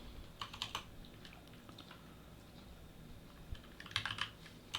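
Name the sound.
typing on a new computer keyboard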